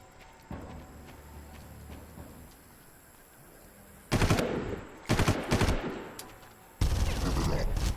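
Automatic weapon fire in the video game Far Cry comes in several sharp, loud rapid-fire bursts separated by quieter gaps with faint background ambience.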